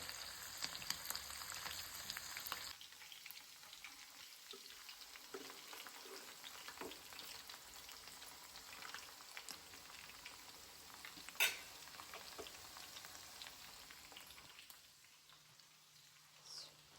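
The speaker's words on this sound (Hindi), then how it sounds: "यहाँ पे मैंने चिकन फ्राई करने के लिए ले लिया ना" Chicken fries in hot oil, crackling and sizzling steadily at low volume with scattered sharper pops, including one louder spit near the end.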